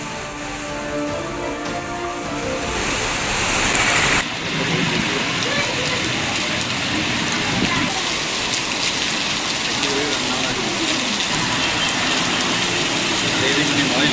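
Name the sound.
heavy rain falling in Theni district, Tamil Nadu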